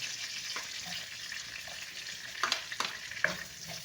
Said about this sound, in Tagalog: gisa na natin itong bawang. Sunod natin ito ng sibuyas